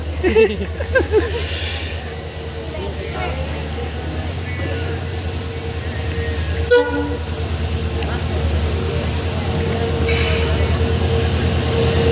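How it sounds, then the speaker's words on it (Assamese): A train rumbles steadily past, wheels clattering on the rails with occasional metallic squeals, loud and continuous throughout. "গাইজ ট্ৰেইন আহিছে"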